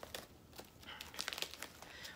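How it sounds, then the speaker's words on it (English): Plastic wrap being pulled off a potted fern: quiet, close crinkling and rustling in a run of small irregular crackles, with a few sharper snaps midway. "I'm gonna take some of the plastic off"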